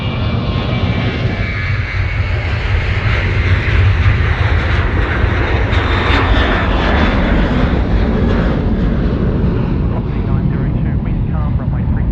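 An Air India airliner landing at Sydney Airport makes a loud, close, sustained engine roar that swells and rumbles throughout, with a voice talking over it.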